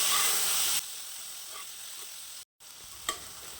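Onion, tomato and garlic sautéing in a pan for sambar sizzle loudly at first, then drop to a faint soft hiss broken by a brief silence and a light clink, close and quiet, no voices.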